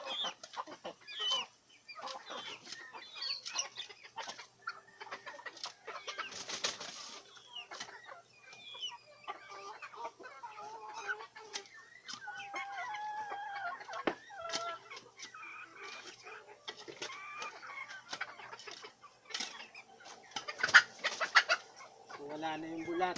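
Chickens and a rooster cluck and call intermittently near a backyard compost pile, the fowl sounds scattered over quiet background, with a person speaking at times.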